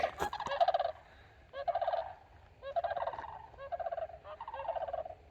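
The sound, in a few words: unidentified large birds calling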